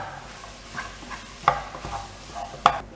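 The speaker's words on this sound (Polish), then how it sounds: "Całość podsmażamy chwilę i dorzucamy mięso mielone. Mieszamy cały czas, żeby nie zrobiły się grudy za duże z mięsa." Minced meat sizzles in a pan while a utensil stirs and scrapes it, a steady close sizzle with a few sharp clinks of the spoon against the pan, no talking.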